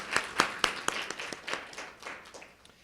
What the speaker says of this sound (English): I'm gonna give them a round of applause as well.